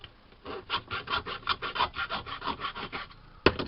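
Small saw cutting a short length of brass tube, a quick run of rhythmic rasping strokes close up, about a dozen evenly spaced passes, ending with a sharp click.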